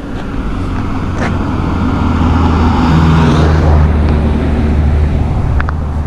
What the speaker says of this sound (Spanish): ¡Mira un coche!